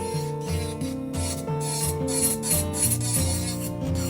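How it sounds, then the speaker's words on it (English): Rhythmic rasping strokes of a nail file on a curved acrylic nail tip, back-and-forth scraping in quick repeated passes over soft background music. "You go through and file it out."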